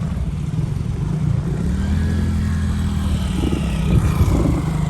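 Motorbike engine ridden by learners at a practice ground, a steady mid-pitched hum with slight rises in revs, close and continuous with a faint scooter and outdoor noise behind it.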